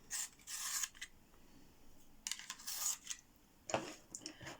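A beige coloured pencil is sharpened in short scraping bursts, three or four quiet rasping passes with gaps between, heard close and alone.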